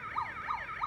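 A fire truck siren from a TV show wails in a rapid repeating up-and-down sweep, steady and moderately loud, cycling about three times with no voices over it.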